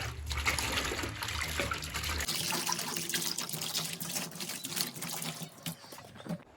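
Bratz doll clothes being scrubbed by hand in soapy water in a sink: running water trickles and splashes softly, with quiet rubbing and sloshing throughout.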